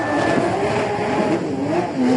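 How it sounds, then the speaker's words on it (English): Race car engines fire up and rev loudly together on the grid at the Pirelli World Challenge Grand Prix of Long Beach, a dense roaring drone with rising and falling pitch as several cars idle and blip their throttles. "The engines have come to life."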